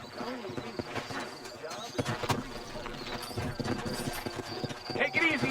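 Horse hooves clip-clop in an uneven rhythm in Red Dead Redemption, with someone talking over them throughout.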